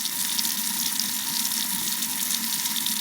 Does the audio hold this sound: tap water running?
yes